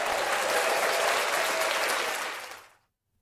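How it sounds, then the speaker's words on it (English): A preset applause sound effect fired from a podcasting board: a dense wash of crowd clapping, steady and fairly loud for over two seconds, then tapering off abruptly into silence. "So, like applause."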